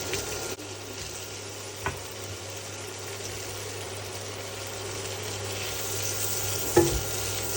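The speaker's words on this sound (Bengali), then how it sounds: "বাটারটাকে গলিয়ে নিচ্ছি, দিয়ে প্রথমে এর মধ্যে দিয়ে দিচ্ছি সসেজগুলো" Sausages fry in melted butter in a pan, giving a steady, even sizzling hiss throughout with a couple of faint clicks and no voices.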